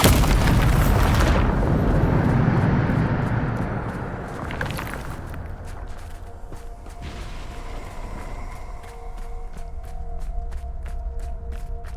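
A Bombarda spell explodes in Hogwarts Legacy: a loud, deep blast and roar for about four seconds, then a short second burst, then fading into a quieter crackling rumble with faint ringing tones.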